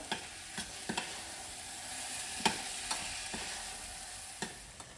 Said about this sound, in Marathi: टोमॅटो पण जरा स्लो गॅसवरती शिजवायचा चांगला.